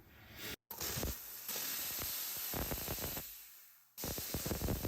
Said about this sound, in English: We're going to steam it now.